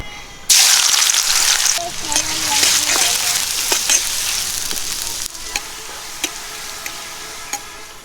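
Chopped onions go into hot oil in a pan with a sudden loud burst of sizzling that settles into a steady fry, with stirring clinks and scrapes, and a voice speaks in the middle.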